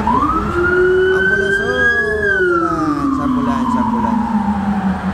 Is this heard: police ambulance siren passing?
yes